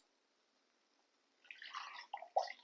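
Green cooking water from boiled spinach is poured into a pan for palak paneer, arriving after a moment of silence as a short, faint splashing and trickling that ends in a few drips.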